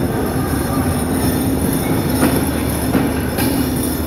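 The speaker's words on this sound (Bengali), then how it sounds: "এই যে ট্রেনটি ঢাকা কমলাপুর রেল স্টেশনের 5 নম্বর প্ল্যাটফর্ম থেকে ছেড়ে যাচ্ছে পঞ্চগড়ের উদ্দেশ্যে" Panchagarh Express intercity train pulling out of platform 5 at Dhaka Kamalapur station, a loud close rumble of rolling carriages with faint wheel squeal and a few soft clanks over steady noise.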